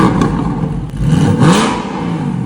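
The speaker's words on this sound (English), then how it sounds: "Now compare the factory sound to the new exhaust." Car engine revving through a new aftermarket exhaust, loud and close, a brief throaty surge that rises and holds with a rough mechanical rasp.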